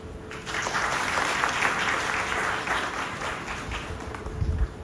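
Sustained applause from an audience honouring women at a Women's Day gathering, a dense steady wash of many hands clapping throughout, moderately loud, with a low thump near the end.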